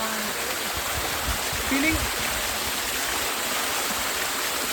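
Padghe waterfall near Umroli running low, a steady broad rush of flowing water heard from nearby, with a brief faint voice and a short bird-like chirp over the constant wash.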